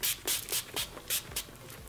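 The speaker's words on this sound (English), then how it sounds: "I'm just gonna be using this just as a spray" Makeup setting spray misted in several short, crisp bursts, roughly evenly spaced, close up and alone.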